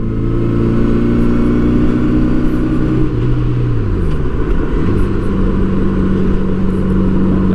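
A 1984 Honda Gold Wing Aspencade motorcycle engine accelerates, a loud smooth rumble climbing in pitch, dipping briefly at a gear change, then pulling upward again with wind noise.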